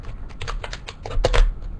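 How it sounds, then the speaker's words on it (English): Sharp craft knife stabbing and scraping into a thin aluminum soda can, a quick cluster of crisp, crackling metallic ticks and scratches heard up close with no talking. "you're going to take a sharp craft knife, and you're going to just stick it in there,"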